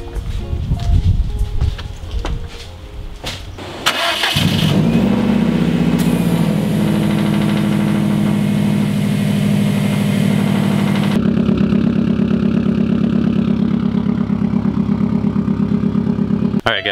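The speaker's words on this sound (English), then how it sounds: "I think I'm good to start it up now." Subaru STI car engine, just back together after prep work, cranks and catches after a short shuffle, then settles into a loud, steady close-up idle that deepens slightly partway through.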